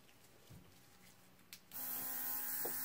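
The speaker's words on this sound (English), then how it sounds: "Where's my mini blower?" A small handheld mini blower with a nearly dead battery switches on partway through and keeps up a steady, close, buzzing motor whir. A few soft bumps and clicks come before it starts.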